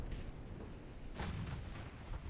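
Naval gunfire in Ultimate Admiral Dreadnoughts, a battleship under concentrated enemy fire, heard as a steady low rumble with one stronger boom near the middle and another near the end, no talking.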